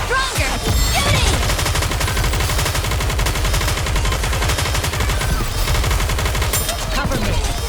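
Rapid sustained automatic gunfire in the mobile shooter Goddess of Victory NIKKE, dense machine-gun bursts firing almost continuously over several seconds, loud and close with game music and effects layered beneath.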